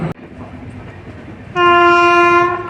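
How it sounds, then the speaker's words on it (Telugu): The 12822 Dhauli Express rolls around a curve near Puri with a steady close rumble, then a loud sustained horn blast cuts in partway through and holds to the end. "మన ట్రైన్ వచ్చేసి ఒక బ్యూటిఫుల్ కర్వ్ అయితే కొడుతుంది టువర్డ్స్ కుర్దా రోడ్."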